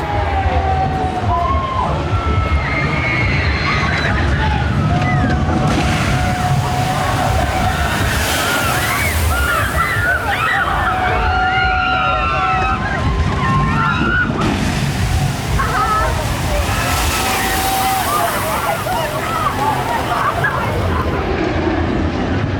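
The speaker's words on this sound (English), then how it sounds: "Thorpe Park's signature water ride, Tidal Wave, is open today" Water crashing and sloshing from the Tidal Wave water ride at Thorpe Park on opening day, loud broad surges rising in repeated waves over steady crowd noise and background ambience.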